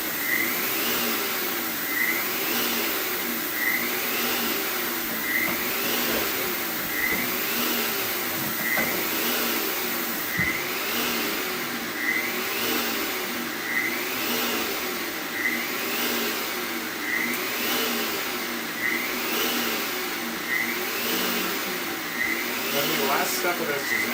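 An electric mixer whirs steadily through cake frosting, a loud continuous motor drone with a regular rhythmic pulsing as the beaters turn, running for the whole stretch without talk.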